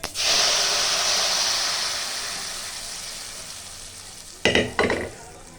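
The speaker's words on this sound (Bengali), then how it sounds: "এবারে ডালটা ঢেলে দেব।" Lentils poured into a hot pan of sizzling mustard-seed and dried-chili tempering set off a loud, sustained hiss that slowly fades, followed by a few sharp clattering stirs near the end.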